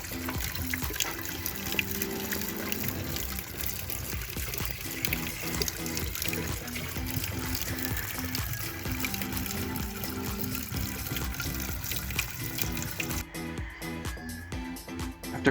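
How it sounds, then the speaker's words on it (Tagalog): Steady trickle of tap water filling an ice cream box used as a container, continuous and close with a soft low hum beneath, no talking. "Fill your container with water."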